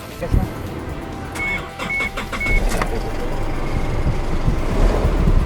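A 2005 Isuzu D-Max pickup with a 3.0 engine cranks with a brief starter whine, then settles into a steady, rough idle close by while someone talks over it.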